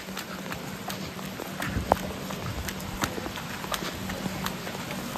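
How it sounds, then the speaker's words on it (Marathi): Quick footsteps of a person running through rain at a station in Ratnagiri, a run of rhythmic slaps and thuds close by over a soft, steady wash of rain. "थोडं धावतोय मी"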